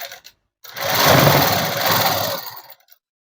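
A sewing machine stitches a folded hem on net cloth in one loud, steady burst of about two seconds, rising in and tapering off, with silence on either side.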